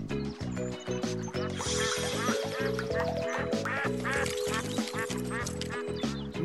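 Ducks quack in rapid, continuous chatter over a steady rhythmic backing in a children's cartoon, with the bright calls close and prominent throughout.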